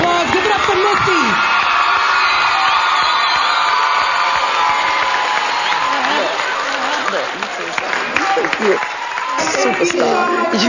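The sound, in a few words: audience applause and cheering for a performer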